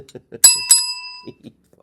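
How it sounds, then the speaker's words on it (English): A bell used as a Christmas decoration, struck twice in quick succession with bright ringing tones that fade, between snatches of nearby talking. "We got a bell here"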